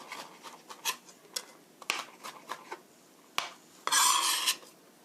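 A knife mincing vegetables on a cutting board for cabbage spaghetti, irregular close taps and scraping strokes, then a longer rasping sweep near the end, with no talk.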